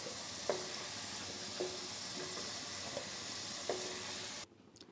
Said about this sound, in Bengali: আমার আলুগুলো প্রায় ভাজা হয়ে এসেছে।